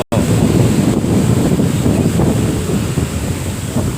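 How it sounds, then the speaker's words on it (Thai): Strong wind buffets the microphone at an outdoor earthworks site where large tractors push clay, a loud steady rushing roar with no pause throughout. "ลมพัดมาแล้ว"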